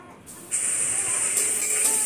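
Onion paste is dropped into hot oil tempered with whole cumin seeds. A sharp hiss starts abruptly and settles into a steady, close, bright sizzle.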